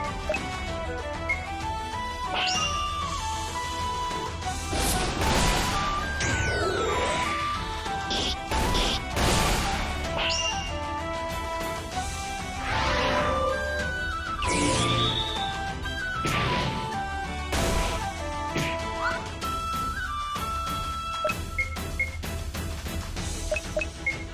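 Combat in the fantasy RPG KANAR plays out as a rogue attacks an enemy. Dense, loud smashes and whacks land in quick succession over layered game sounds, with no talking.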